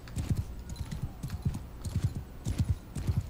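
Horse hooves clip-clop in Mount and Blade: Bannerlord, a slow horse's steady walking gait in rhythmic clusters of dull thuds, close and fairly quiet, with no talk.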